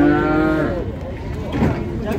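Calves at the Füzuli livestock market in Azerbaijan let out one loud, drawn-out moo that falls in pitch, followed by a rougher, shorter bellow amid crowd noise.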